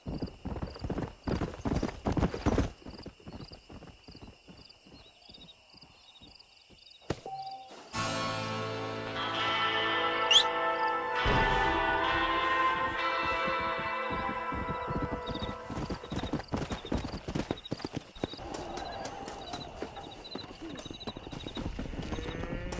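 Horses in the Red Dead Redemption video game, with steady hoof clip-clop and a neigh, layered under game music and shifting ambience; voices come in partway through.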